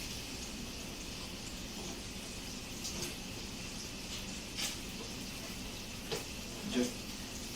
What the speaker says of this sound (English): got a nice bit of amount of bacon grease on this grill. And I'm going to flip over my buns here.